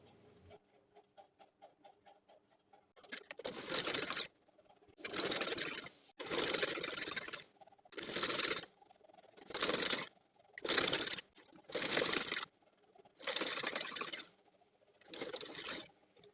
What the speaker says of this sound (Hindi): तो हम जो है इस पर सिलाई लगा लेते हैं।